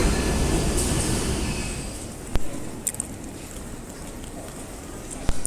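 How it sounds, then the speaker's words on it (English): A train pulls into a London station platform, its loud rumbling roar gradually easing as it slows, with a few sharp metallic clanks and squeals near the end. "Ooh, train's here."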